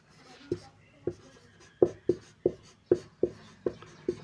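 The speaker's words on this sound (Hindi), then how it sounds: "लिखता हूँ यहाँ पे" Writing on a board during a lesson on India's Attorney General, a steady series of about ten firm chalk or marker taps and strokes, close and fairly loud, with a quiet voice faintly underneath.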